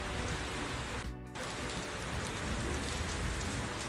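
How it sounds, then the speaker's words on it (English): Heavy rain in a video game pours in a dense, steady roar, with a brief dip and a tonal blip early on. "Hear the hard rain."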